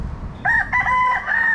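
Rooster crowing in a yard among chickens, one close, loud cock-a-doodle-doo in several strained bursts over faint low background noise.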